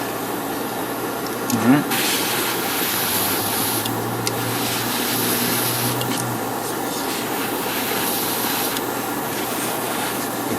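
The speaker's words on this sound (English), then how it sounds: "I'm trying to clean the airbrush inlet because this thing dries up really quick." An airbrush inlet on a Bandai 1/1000 model kit job gets cleaned, giving a continuous hissing, rubbing noise with short louder bursts. It runs steadily up close, and a voice speaks briefly near the start.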